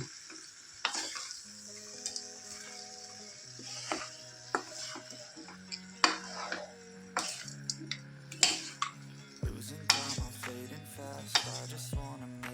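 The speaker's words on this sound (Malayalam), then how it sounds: "നന്നായി ഒന്ന് ഇളക്കി യോജിപ്പിക്കുക." Stirring a cauliflower curry with green peas in a pan, repeated spoon scrapes and metallic clinks against the pot over a soft sizzle, close and steady with irregular taps throughout.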